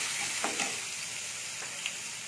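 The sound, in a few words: chopped tomatoes being stirred in frying cumin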